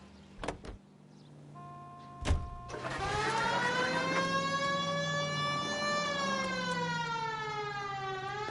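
Police car siren from the video game L.A. Noire, starting after a couple of door-like clunks and then wailing loudly and steadily, rising and falling in pitch.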